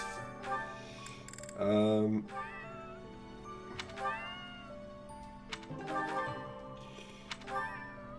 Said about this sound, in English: More importantly, let's feed this cat.